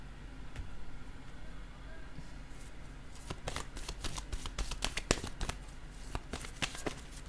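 Playing cards being handled and set down one after another on a table, a run of soft sharp snaps and slaps in an irregular rhythm over a low steady background hum.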